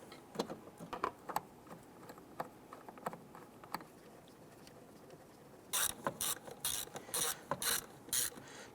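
A ratchet clicks in short quick bursts as it snugs down the mass airflow sensor bolts on a Ford Explorer, quiet and close at first, then louder clicking runs near the end.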